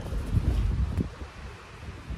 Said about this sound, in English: I've just tucked the microphone out to see if we can catch this wind.